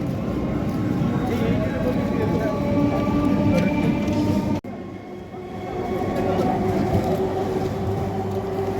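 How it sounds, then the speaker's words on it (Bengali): A train rolls through Liluah station with a loud steady rumble and rhythmic wheel clatter, briefly cut off and resuming, while voices murmur underneath. "ট্রেন যাচ্ছে।"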